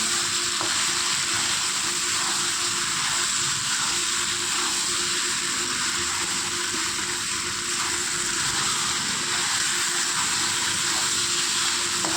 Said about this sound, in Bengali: আমার মাংসটা প্রায় ভাজা হয়ে গিয়েছে